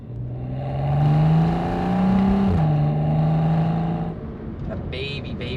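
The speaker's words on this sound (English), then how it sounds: "So this is a quick downshift." A car exhaust drops through a quick downshift, the engine note rising in pitch and then stepping down as the revs fall back, loud and close, with a speaking voice faintly underneath.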